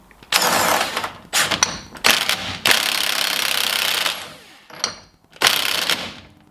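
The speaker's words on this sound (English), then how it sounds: "Tighten it up to about 6 or 7 ugga-duggers." An impact wrench fastens new nuts onto the front end of a Ford Sapphire RS Cosworth, firing in several loud, close rattling bursts of about one to two seconds each, separated by short gaps.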